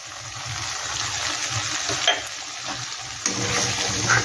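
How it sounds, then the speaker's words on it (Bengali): Spice masala with yogurt and ground black pepper being sautéed in a pan, a steady close sizzle and frying hiss with occasional scraping stirs, loud and continuous with no talking. "বন্ধুরা দেখো মশলাটা কত সুন্দর কষানো হচ্ছে।"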